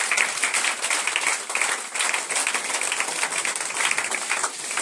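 A church congregation applauds Jesus during a deliverance teaching service, dense sustained clapping from many hands at moderate distance, steady throughout without pauses.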